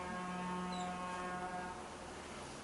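A vehicle horn sounds outside as one faint, distant, sustained tone of a couple of seconds that then fades into the background.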